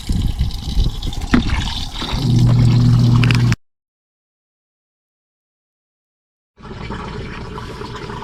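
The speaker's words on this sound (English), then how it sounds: "now I've turned it back on to spin a little bit with some fresher water in it" Portable RV washing machine running a rinse with fresh water, a steady low churning hum with sloshing water for a few seconds, then a long silence before the machine noise resumes at a similar level.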